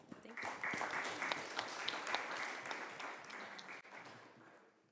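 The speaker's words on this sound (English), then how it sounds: "if you want to hold your applause after every question, that'd be great" An audience at a public art talk gives a faint, distant round of applause. A dense patter of clapping lasts about five seconds, with a voice faintly under it, then tapers off.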